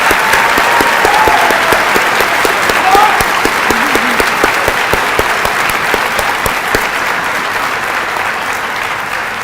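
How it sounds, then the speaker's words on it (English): An audience at a senior academic honors ceremony applauds for the whole stretch, a dense sustained clapping that fades slightly toward the end. "let's give everybody a big round of applause."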